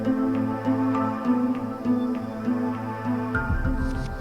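Layered level music for a video game, with a steady sustained bass and mid-range pad under a repeating melodic figure and light percussive ticks. A brief denser rhythmic swell enters near the end.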